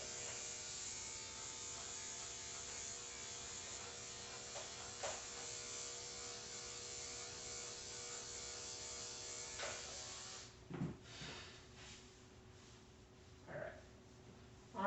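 Electric grooming clippers hum steadily at close range while shaving a matted dog, a continuous buzzing drone with a few soft knocks and shifts as the blade moves through the coat.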